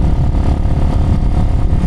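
A Chinese motorcycle with a 16 horsepower engine, ridden wide open, gives a loud, steady, buzzing engine drone with clattering mechanical roughness, heard close and without any talk.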